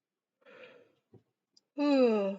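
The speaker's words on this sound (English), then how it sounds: "Excuse me for yawning." A person yawns once, long and voiced, close to the microphone in an otherwise quiet room, preceded by a soft breath and a faint click.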